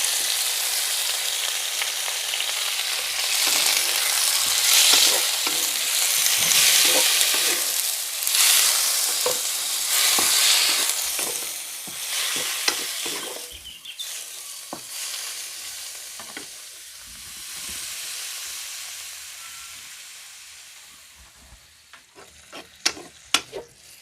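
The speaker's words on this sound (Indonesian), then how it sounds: "Nih ususnya ditumis ya." Chicken intestines wrapped around sticks are stir-fried with garlic and ginger for a BBQ-sauce dish, making a loud, steady sizzle that fades as a spatula scrapes and stirs, ending with a few sharp clanks against the wok.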